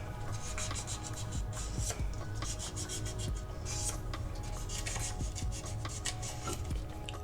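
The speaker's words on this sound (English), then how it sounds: "I'm gonna wipe over these nails with the gel residue wipe off solution" Nails are wiped over with a gel residue wipe-off solution to remove dust, giving close, repeated scratchy rubbing strokes in a steady back-and-forth rhythm, alone and fairly quiet.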